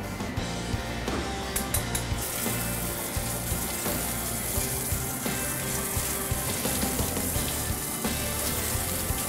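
Tap water runs steadily as fish are rinsed in a kitchen sink, a dense continuous splashing hiss with small clinks and handling noises, close and fairly loud with no talk over it.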